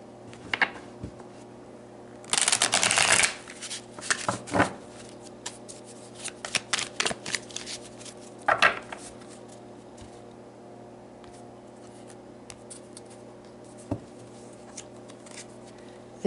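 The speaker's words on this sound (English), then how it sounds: "should give these a good shuffle for you guys." A deck of tarot cards is shuffled close up, a dense riffling burst followed by scattered flicks and soft card slaps that thin out to occasional taps, with no talking.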